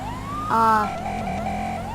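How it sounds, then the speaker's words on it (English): A synthetic police siren from the video game LSPDFR wails up and down, loud and steady, with a brief electronic yelp in the middle. "new siren sound and gun sounds"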